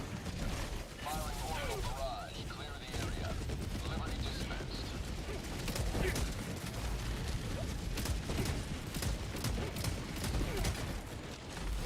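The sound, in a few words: orbital barrage firing in a video game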